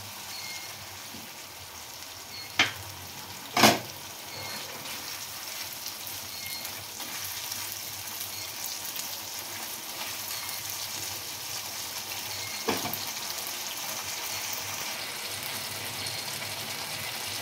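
Chilli bhetki fish frying in a pan as a sauce mixture goes in, giving a steady close broadband sizzle and hiss throughout, with a few brief clinks or taps near the start and one more later.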